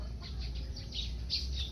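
Chickens in a small garden in Davao: faint, scattered bird calls and clucks come through over a steady low background hum, with no voices.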